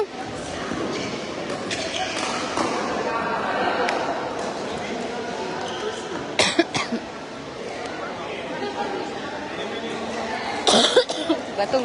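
Coughing from a videographer at a basketball game, a couple of short sharp coughs standing out over a steady crowd chatter and ambient noise.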